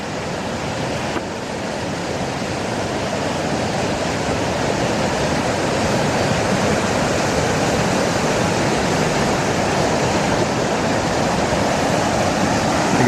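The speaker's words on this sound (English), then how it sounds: "water's coming by at a pretty good pace for sure" A flash-flooded mountain river near Estes Park and Glen Haven, Colorado, rushes past in a steady, loud, broadband roar of turbulent water that never lets up, heard close by with no voices.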